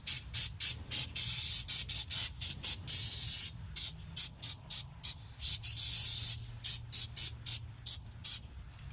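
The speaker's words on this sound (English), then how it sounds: "you just clean that using electronic cleaner. It's completely safe for plastics." Electronic cleaner sprays in repeated short hissing bursts onto a fuel filter from a 2024 Mercedes-Benz Sprinter diesel, close and fairly loud, with brief pauses between bursts.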